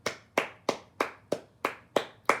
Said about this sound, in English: You get the applause of the week